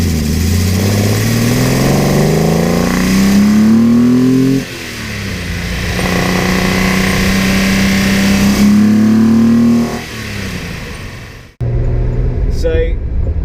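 A 1974 Datsun 260Z with a 2.6-litre straight-six and triple carburetors revs loud and close in two long pulls, each climbing in pitch before dropping back, then cuts off sharply.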